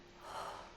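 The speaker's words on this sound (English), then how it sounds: "Make that heavy breathing stop a little bit." A character in the video game Star Citizen lets out one heavy, breathy gasp that swells and fades within a second, faint under a broad hiss.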